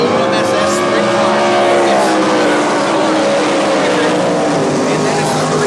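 UMSS sprint cars racing at North Central Speedway, a loud wall of roaring engines with layered harmonic whine, continuous and close throughout the heat race.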